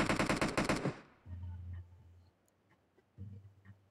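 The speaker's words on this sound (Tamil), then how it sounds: "மிஷின் கன் வச்சு காட்டிட்டாரு." Machine gun fire in an online multiplayer shooter room match: a loud, rapid burst of automatic shots at the start, followed by quieter low engine-like rumbles and faint distant pops.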